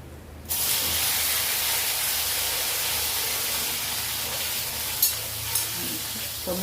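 Okra drops into hot oil already crackling with cumin, mustard seeds and asafoetida, setting off a sudden loud sizzle that keeps hissing steadily, with a few small clinks and pops toward the end.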